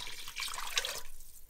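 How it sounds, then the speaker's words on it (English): Water pours steadily into a pot of tomato paste and spice mixture, a brief close splashing rush that tapers off after about a second. "And now we're going to add our extra 2 cups of water to this."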